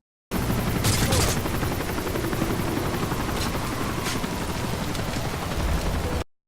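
Sustained gunfire and explosive battle noise from Call of Duty: Modern Warfare 3, Special Ops Hostage Taker mission, a dense continuous roar with a few sharper bursts, loud throughout with no talk.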